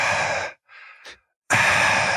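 A voice imitates heavy breathing in someone's ear during a basketball game: two loud, harsh, close breaths, an exhale then another after a short quiet gap, with a faint inhale between.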